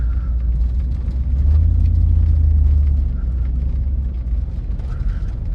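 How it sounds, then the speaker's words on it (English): A 20-plus-year-old Cadillac Escalade converted to two-wheel drive rolls along with a loud low engine and road rumble that swells midway, while faint interior rattles tick over the drone. "Some of the interior rattles, but you know, that's to be expected being a 20-plus-year-old vehicle."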